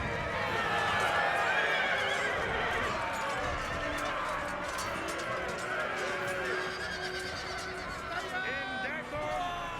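Horses whinnying and hooves clip-clopping during a Napoleon Total War cavalry fight, several neighs rising over a busy battle bed, fairly faint.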